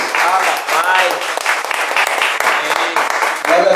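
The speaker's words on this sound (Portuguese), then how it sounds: "Aplausos a Ele, amados." A church congregation applauds in dense, continuous clapping that holds strong throughout, with voices mixed in among the crowd.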